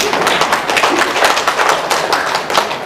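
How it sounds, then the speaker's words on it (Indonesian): An audience at a university rector's inauguration ceremony in Bojonegoro claps steadily, a dense, loud patter of many hands throughout the short stretch. "Tepuk tangan lagi"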